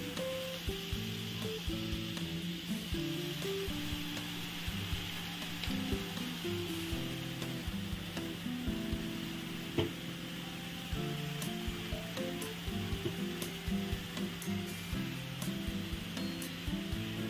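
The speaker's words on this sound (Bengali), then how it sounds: "বিটরুটটাকে দিয়ে একটু নাড়াচাড়া করতে হবে।" Beetroot and fried potato cook in a pan with a soft, constant sizzle while a spatula stirs them now and then, giving light scraping taps over a steady low hiss; fairly quiet and close, with no voices.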